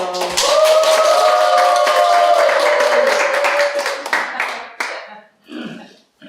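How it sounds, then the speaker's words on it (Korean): An audience claps to welcome a teacher to a mind-study class, a dense burst of hand claps over a sustained hum that thins out and stops after about five seconds. "힘찬 박수로 맞이해주세요."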